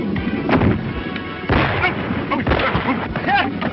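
Rapid gunshots from an old western film fight crack out in irregular bursts over a busy, noisy soundtrack, loud and close, with voices talking between the shots.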